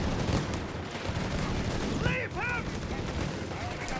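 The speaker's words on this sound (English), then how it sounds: "Green machine gun here." Machine gun fire from the real-time strategy game Company of Heroes 3 crackles in rapid bursts amid other battlefield noise, steady and fairly close, with a few chirping whistles cutting through midway.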